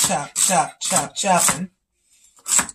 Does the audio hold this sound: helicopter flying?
no